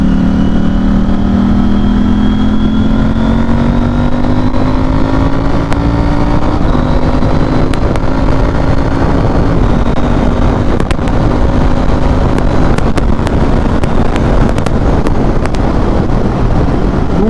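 A motorcycle accelerating hard on an open, clear road, engine note rising steadily through the gears with loud, continuous roar and wind rush, close and dominant throughout with no talk.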